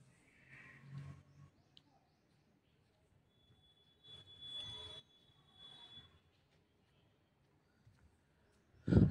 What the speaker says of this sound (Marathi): पनवेल ते दिवा, पनवेल ते वसई विरार जे मेमो ट्रेन असतात ते इथून धावत असतात